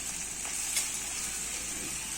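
Spices such as turmeric and red masala fry in a hot pan, giving a steady, close sizzle with faint crackling throughout and no voices.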